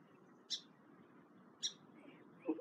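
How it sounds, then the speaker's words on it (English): Birds chirp around a kayak on the water, with two short bright calls about a second apart followed by a softer third, faint over a quiet background hiss. "We're being chirped at when we are in this area."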